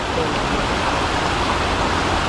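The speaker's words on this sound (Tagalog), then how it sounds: "Ganda oh, talon talaga." A steady, loud rush of falling water, continuous broadband roar without pause, heard close by.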